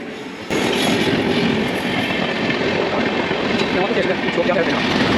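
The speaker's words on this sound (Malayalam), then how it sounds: "ഒരു ട്രെയിൻ ഇങ്ങനെ കടന്നു പോകുന്ന കാഴ്ച നമുക്ക് ഇവിടെ നിന്ന് കാണാട്ടോ" A Kochi Metro train rushes past close by without stopping, a loud, sustained rumble with rattling wheels that kicks in abruptly after a moment of quiet.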